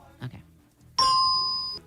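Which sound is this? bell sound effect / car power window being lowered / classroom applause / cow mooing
bell sound effect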